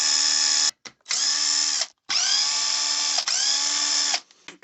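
Electric driver with a 2 mm bit backing screws out of an RC car skid plate, sounding as several close, steady high-pitched whirring runs, each a second or so long, with brief stops and clicks in between.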